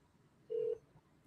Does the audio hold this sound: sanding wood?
no